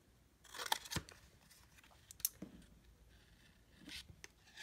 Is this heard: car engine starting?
no